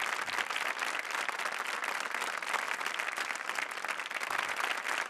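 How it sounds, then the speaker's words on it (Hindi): An audience in a television reality show studio claps loudly and steadily, a dense continuous wash of applause with no break throughout. "जोरदार तालियां एवरीबॉडी फॉर मिली"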